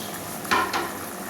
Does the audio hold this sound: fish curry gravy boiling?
yes